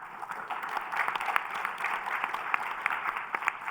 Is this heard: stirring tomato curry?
no